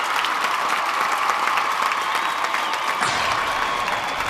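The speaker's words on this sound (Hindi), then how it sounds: "जोरदार तालियों से स्वागत कीजिए सीमा सिंह का।" An audience applauds loudly and steadily at a Bhojpuri stage show in Dubai, welcoming a performer with dense, continuous clapping that holds for the whole stretch without a break.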